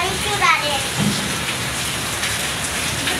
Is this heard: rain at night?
yes